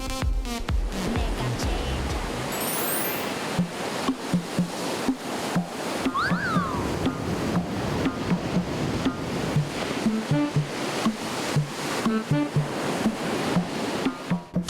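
Ocean waves break steadily at a surfing beach in Korea, a continuous loud wash of surf with repeated rhythmic thumps, close and unbroken throughout.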